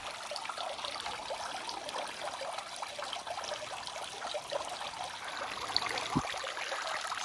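Water trickles and splashes steadily in a garden water fountain with a low-flow problem, a continuous close, moderately loud wash with no voices.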